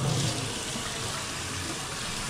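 A tap runs water for hand washing, a steady close hiss and splash that flows without a break.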